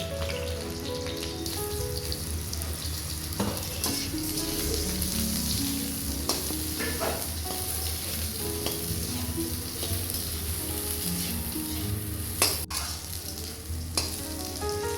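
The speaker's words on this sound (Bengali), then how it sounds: "তেলে এবার পটলটা ভেজে নেব।" Pointed gourd (potol) fries in hot oil, with a continuous close sizzle and occasional stirring scrapes and no voices.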